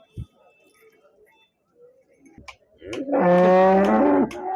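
At a livestock market in Husnabad, Siddipet district, Telangana, a cow lets out a long, loud moo at close range after a few quiet seconds with faint clicks.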